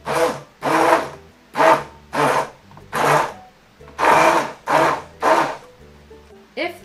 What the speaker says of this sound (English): using the button on the blender,